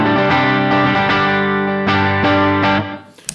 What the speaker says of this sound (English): So the Von 2 Crisscross Shimmer.